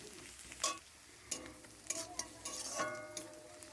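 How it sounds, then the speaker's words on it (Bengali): Garlic paste fries lightly in a pan for a mushroom dish, a quiet sizzle with intermittent spatula scrapes and clinks against the pan. "এইভাবে আমি রসুনটা আমি হালকা করে ভেজে নেব"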